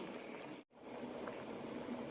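Water boiling in a steamer pot on a low flame to steam bread, a steady close hiss and bubbling rumble that drops out for a split second and then carries on.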